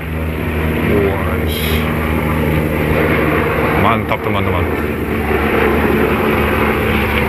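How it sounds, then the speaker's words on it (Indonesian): An airplane passes overhead as a broad, continuous engine roar that hangs over the whole stretch, heard outdoors beneath someone talking close by. "ada pesawat lewat"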